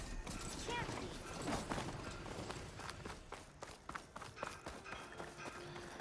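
A mount's hooves walking in Horizon Forbidden West: continuous rhythmic clopping footfalls with mechanical clanking, close and fairly loud throughout, mixed with game ambience.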